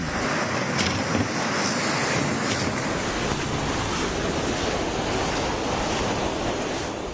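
Strong wind and rough waves batter a floating cottage tied at a port in Pamplona during a storm. A loud, constant roar of gusting wind and crashing surf fills the whole stretch, with no voices.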